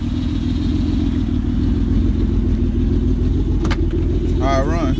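Ford Escape engine idling with a steady low rumble up close, voices talking over it and a brief whistle-like sound near the end.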